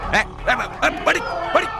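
A dog barks five times in a steady rhythm, close and loud, with yappy high-pitched edges.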